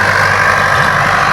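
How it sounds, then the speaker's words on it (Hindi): A tractor engine runs loudly in a field being ploughed for sugarcane planting, a steady close droning rumble with a strong mid-range growl and no change in pace. "देखो ये देखो अब इसमें ट्रैक्टर चल गया। हाँ ट्रैक्टर चल गया गाइस"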